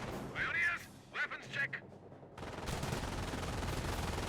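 MG42 machine gun fire in Company of Heroes: a dense, continuous rattle of rapid shots breaks out after a short stretch of commentary and carries loudly to the end.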